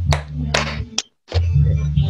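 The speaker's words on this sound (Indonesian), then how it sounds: "berikutnya tepuk tangan" A few sharp hand claps over a steady tone, with a brief silence in the middle before the claps resume.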